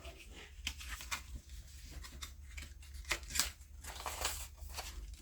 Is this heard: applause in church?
no